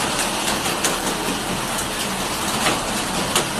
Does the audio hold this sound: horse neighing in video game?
no